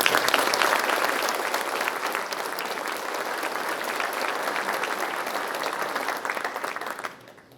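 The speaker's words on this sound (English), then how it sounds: "one more round of applause for our academics." An audience at a high school senior awards night applauds steadily for about seven seconds, loud and dense, then the clapping quickly tapers off.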